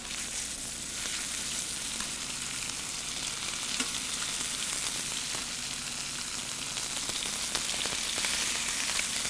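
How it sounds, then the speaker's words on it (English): Pork chops browning in a skillet with about a tablespoon of oil give a steady, close, even sizzle that runs throughout with no talk. "while the pork chops are browning"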